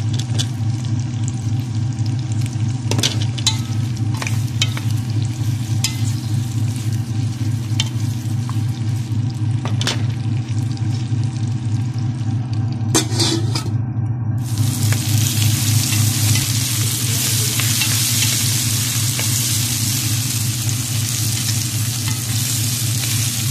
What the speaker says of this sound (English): Drop in the carrot, potato, onion and garlic and fry until light brown.